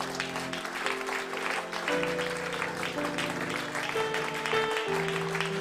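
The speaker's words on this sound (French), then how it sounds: "Donnons une acclamation, Seigneur." A church meeting audience applauds in acclamation, a soft, steady patter of clapping sitting under sustained keyboard-like musical tones that fill the room.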